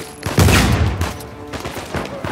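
Gunfire from the video game Uncharted 4, a loud burst of several rapid shots followed by quieter bangs, with excited talk mixed in.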